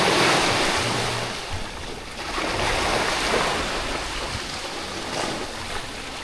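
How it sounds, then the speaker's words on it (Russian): Sea waves wash continuously against a rocky shore with boulders, a broad rushing surf that swells and recedes over steady wind noise, with no voices. "Волны — это хорошо и красиво, конечно."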